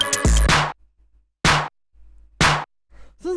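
Layered snare and clap sample for dark electro: a few sharp, bright hits struck alone at an even pace, each with a short noisy tail, separated by near silence.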